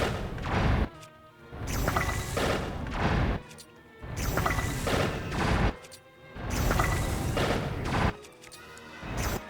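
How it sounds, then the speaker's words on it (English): Bombs blasting in The Legend of Zelda: Tears of the Kingdom, a series of loud, booming explosions in roughly regular bursts about every two seconds, each with a rumbling crackling tail. "Bombs. Lots of bombs."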